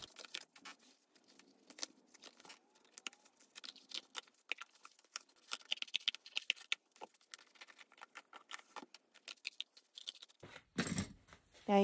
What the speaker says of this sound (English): Now we're just going to use our scissors to trim off all the excess lace around